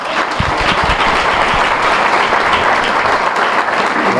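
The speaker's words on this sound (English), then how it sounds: "That was all applause here" Audience at a high school basketball association banquet breaking into loud, sustained applause, a dense roomful of clapping with a few sharper claps standing out near the start.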